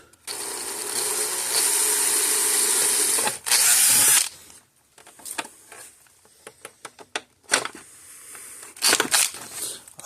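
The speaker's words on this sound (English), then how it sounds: "Get just a little bit bigger drill bit to make the hole bigger." A power drill whirs loudly for several seconds, stops, spins again briefly, followed by scattered clicks and handling noises.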